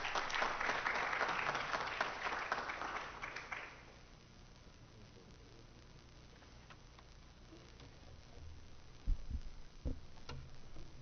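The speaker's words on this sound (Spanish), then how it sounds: "Un fuerte aplauso para ella, por favor." Audience applause at an academic law and technology event, a crowd clapping for about four seconds before dying away into quiet room tone, followed by a few faint knocks.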